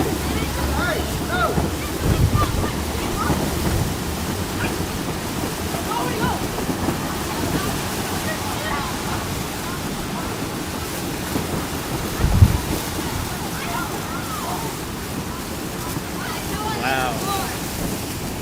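Extreme winds in Miami ahead of Hurricane Milton, heavy gusting wind buffeting the microphone in a continuous rough roar with a sharper burst midway, faint voices in the background.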